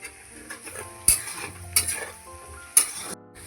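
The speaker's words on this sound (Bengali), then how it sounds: "এই যে বড় কড়াইতে ঘুগনি রান্না করছি" Ghugni being stirred in a large wok, with steady sizzling and frying and a few sharp metallic clanks of the spoon against the pan, close and loud with no talk.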